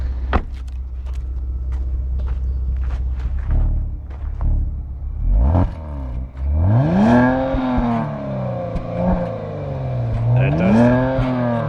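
2022 Kia Stinger GT engine revving up from idle, a loud, close rising growl that climbs and falls in repeated sweeps, with no talk over it.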